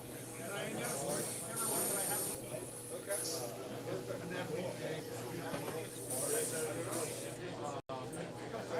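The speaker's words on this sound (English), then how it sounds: "A little bit of water will spray it out" An airbrush sprays out water during cleaning after live painting, giving a soft hiss that comes and goes under steady nearby talking.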